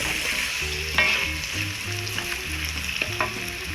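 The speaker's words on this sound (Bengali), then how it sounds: "মাছটা দেওয়ার পরে আরও 2-1 মিনিটের মতন আমরা একটু কষিয়ে নিচ্ছি।" Fish pieces sizzle and fry in a pan with oil while being stirred and browned for a coconut milk fish curry, a steady close crackle with a few sharp clinks of a spoon against the pan.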